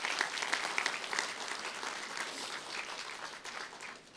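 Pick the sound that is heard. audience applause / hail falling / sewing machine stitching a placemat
audience applause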